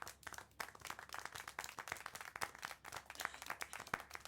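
Clapping in the Syberia: The World Before video game, a quiet, uneven patter of several hands clapping at a distance, steady for a few seconds with no voices.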